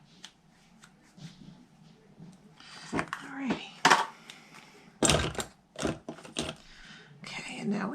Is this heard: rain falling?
no